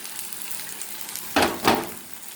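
Mustard paste thinned with water goes into a sizzling pabda fish curry: a quiet simmering sizzle, then two sharp bursts of hissing spatter as the liquid hits the hot pan.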